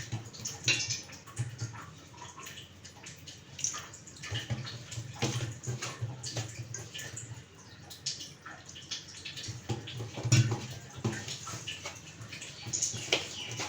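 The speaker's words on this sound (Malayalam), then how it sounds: "ആവശ്യത്തിന് വെള്ളം ഒഴിച്ചിട്ട് കുറേശ്ശെ വെള്ളം ഒഴിച്ചിട്ട് കുഴക്കണം" Water splashes and trickles in small, irregular pours while chapati-style dough for methi thepla is mixed and kneaded by hand, soft wet sloshing sounds continuing throughout with no talk.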